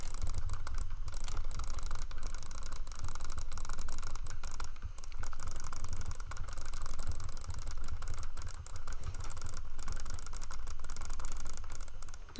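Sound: computer mouse being spam clicked

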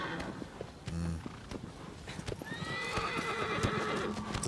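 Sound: horse galloping and neighing in the video game Shadow of the Colossus

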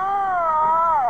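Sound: boy crying sound in a Sonic.exe mod video game

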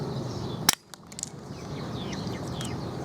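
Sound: toy spring gun shooting

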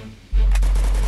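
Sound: gunfire in video game Garena Free Fire

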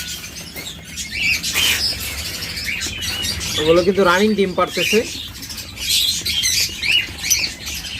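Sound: king quail birds and chicks calling

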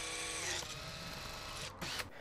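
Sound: drilling a 10mm hole in the MX-5 ECU chassis

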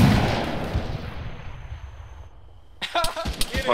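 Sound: friendly Zeus gunfire in the video game ARMA 3

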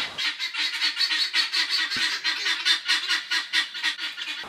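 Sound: geese honking

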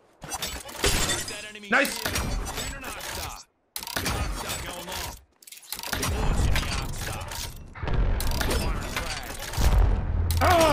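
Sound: grenade explosions in the video game Apex Legends

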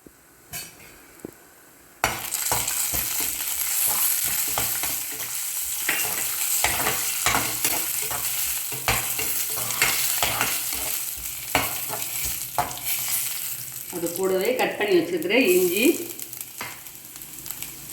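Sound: cashews frying in hot oil

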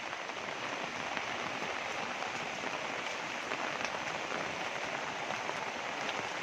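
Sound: heavy rain

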